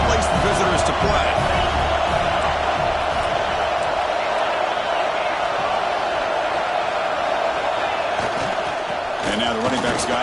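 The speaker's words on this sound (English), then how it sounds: "wow, listen to this crowd noise. This stadium is vibrating." Football stadium crowd roaring steadily, a loud continuous wall of cheering and noise with a commentator's voice talking over it throughout.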